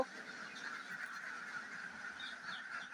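Faint duck calls chatter in the distance, a soft continuous honking and quacking from a group of ducks at a farm with no talking.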